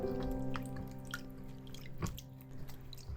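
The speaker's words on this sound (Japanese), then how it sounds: "濁った水を捨てて新しい水に入れ替えてもう一度洗っていきます。" Chicken livers are washed by hand in a bowl of water, with soft sloshing, squishing and dripping at an irregular rhythm over a steady low background hum.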